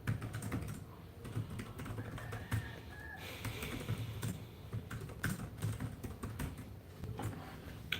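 Quiet, continuous typing on a computer keyboard, with a steady patter of key clicks and small pauses, heard fairly close against a faint room background.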